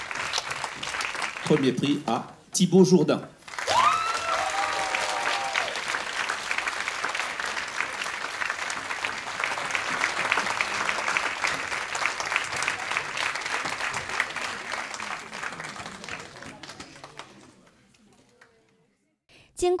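Warm audience applause for a first-prize winner at a Chinese-language competition in Alsace, a long, even wash of clapping that follows a brief spoken announcement, holds steady, then fades to near silence.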